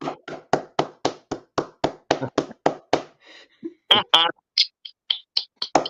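A single person claps about a dozen times in a quick, even rhythm, close and crisp, then the claps stop and a few scattered short sounds follow.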